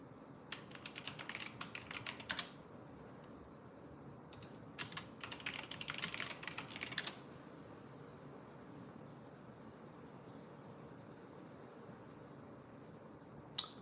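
Quick bursts of typing on a computer keyboard while searching, two clusters of rapid clicks with a short pause between, close and fairly faint over steady room noise, then quiet.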